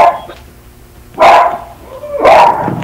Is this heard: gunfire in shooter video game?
no